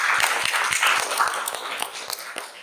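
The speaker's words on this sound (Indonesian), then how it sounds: "Aplaus dulu." Clapping from a group of students in a classroom during a lesson, a steady burst of applause lasting a few seconds with no talking over it.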